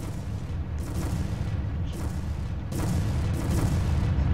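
Continuous rumbling booms and crashing impacts as a meteor smashes a pile of cash in the Roblox game Meteor Simulator, a dense, loud game soundtrack with repeated bursts and no talk.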